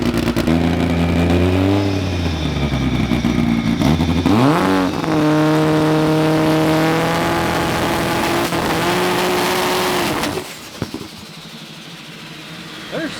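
A front-wheel-drive race car on a test run revs hard and loud nearby, its engine note rising and falling through several throttle sweeps before a long sustained pull that cuts off abruptly near the end.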